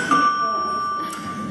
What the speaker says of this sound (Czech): V tom u starostu zazvonil zvonec.